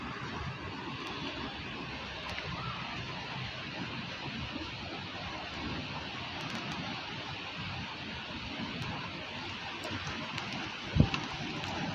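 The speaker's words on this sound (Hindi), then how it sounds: "बारिश भी तेज़ हो चुकी है।" Heavy rain falls outdoors as a constant broadband hiss, mixed with wind and a brief knock near the end, with no voices heard.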